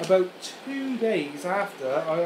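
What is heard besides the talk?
No everyday noise stands out behind the speech.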